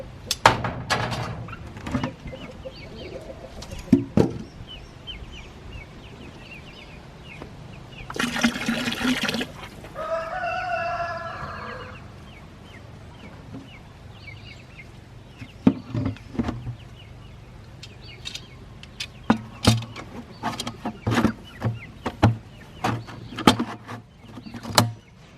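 Water gushes from a tap into a chicken waterer for a few seconds, set among clunks, handling knocks and scattered taps of the container before and after the filling.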